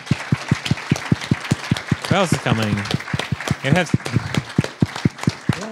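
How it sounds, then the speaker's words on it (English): An audience at the App.js tech conference claps in a steady, even rhythm of single claps, while a speaker's voice talks over part of it. "You can give them a clap."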